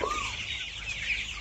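Young 25-day-old broiler chickens on a poultry farm with Ranikhet (Newcastle) disease cluck and chirp steadily together, a dense flock murmur with a few higher calls standing out, at moderate loudness and no talking.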